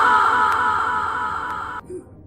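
A single loud sustained shout in a big empty hall, held for under two seconds and then cut off, leaving a brief faint trailing reflection.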